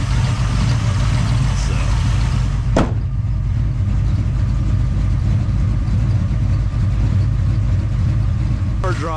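An OBS Ford muscle truck engine rumbles steadily and loudly while driving, a deep continuous drone with a couple of sharp brief sounds over it.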